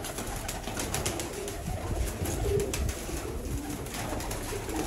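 Fantail pigeons cooing among a flock of kept birds, repeated low throaty coos close by over a steady background hum and rustle, with no talk.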